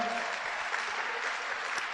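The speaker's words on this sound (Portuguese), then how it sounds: "Quem pode aplaudir o bom pastor agora?" A church congregation claps for the Good Shepherd, a steady, full burst of applause filling the room throughout.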